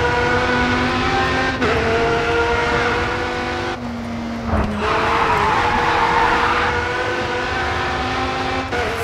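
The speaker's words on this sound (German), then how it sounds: "Boah, was für ein Drift." A car drifts through a race in Grid 2, loud engine revving with long tonal tire squeals and skids that shift pitch, a brief gap in the engine note midway before it roars back.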